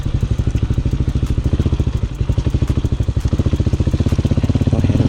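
Rapid, even thumping exhaust pulses from a Hawk 250cc dual sport motorcycle being ridden on city streets, close and fairly loud, with throttle-controlled engine note holding steady throughout.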